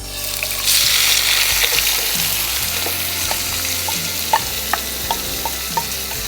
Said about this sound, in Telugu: ఇవి ఈ నూనెలో మగ్గనివ్వాలి.